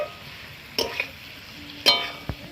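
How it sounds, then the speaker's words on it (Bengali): Softened chhana dumplings are sautéed in spice masala in a pan under a low, steady sizzle, broken by two sharp scrapes or knocks of the spatula against the pan and a softer tap near the end. "ভালো করে কষে নেব"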